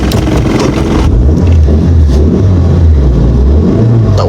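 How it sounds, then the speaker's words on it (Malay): A car engine revs hard and labours, a loud, steady low drone with strained surges that holds throughout and then eases near the end, with no talk over it. "Tak boleh dah, kereta dah nak semput dah ni."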